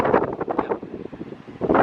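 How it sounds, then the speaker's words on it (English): Strong wind on the Cornish coast near St Ives buffets the microphone in heavy, rumbling gusts that swell and fade, loud throughout with no other clear sounds. "you probably can't hear me because it's so windy"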